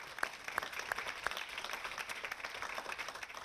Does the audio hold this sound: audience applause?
yes